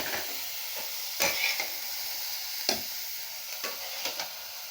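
Ragi paniyaram batter sizzles quietly in a pan, a soft steady hiss broken by a few sharp clicks and scrapes from stirring or spooning, with no voices.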